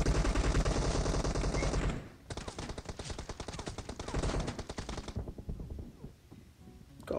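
Rapid automatic gunfire in the mobile battle royale game PUBG Mobile, with a dense burst followed by several quick volleys of shots, loud and close, with a short lull between bursts.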